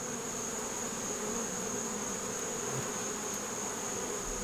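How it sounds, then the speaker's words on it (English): Honey bees drone in a steady, dense buzz from an open late-season nuc hive, close and continuous, with no one talking. "Man, look at all those bees down in there."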